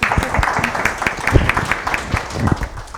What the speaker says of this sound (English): Okay, a round of applause for Lauren's papers.